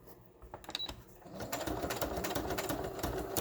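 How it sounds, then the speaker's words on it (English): A sewing machine stitching thick material runs in a steady rapid chatter of stitches, starting slow and hesitant, then picking up into a dense, continuous mechanical whir. "I have to kind of go slow with my sewing machine"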